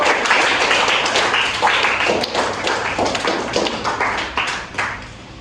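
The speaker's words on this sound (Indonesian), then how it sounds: "Oke, tepuk tangan dulu." A classroom of students clapping hands, uneven bursts of claps that swell and fade over several seconds, fairly close.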